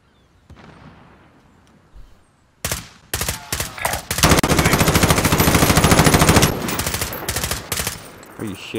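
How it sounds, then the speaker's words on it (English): Automatic gunfire in Call of Duty Warzone fires in loud repeated bursts, building into a long sustained volley and then a few shorter bursts, after quieter background game sound at the start. "Oh, I heard gunshot to the right."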